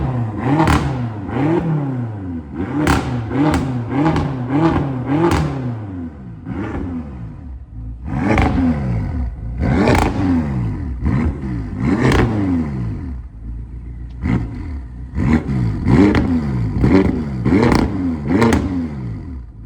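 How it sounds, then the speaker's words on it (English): A BMW F10 M5 with catalytic converters and an Eisenmann exhaust revs repeatedly, loud and close, in quick rising and falling bursts with short pauses between groups of revs. "even with the cats and an Eisenmann exhaust, this car truly still sounds amazing."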